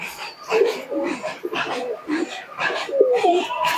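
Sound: pigeons cooing

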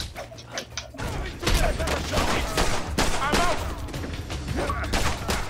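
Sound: gunfire in video game The Bourne Conspiracy

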